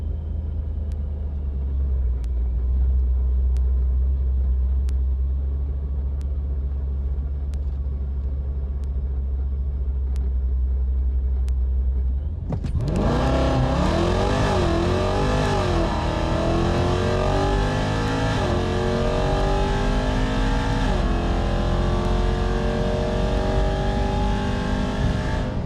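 A ProCharged 5.7 Hemi car idles with a deep, steady rumble at a Virginia Motorsports Park drag strip, then launches hard into a loud, rising engine roar that climbs through several gear shifts.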